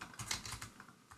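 Computer keyboard typing in a QEMU virtual machine session: a quick run of close, crisp key clicks with uneven rhythm, fairly quiet and with no talking.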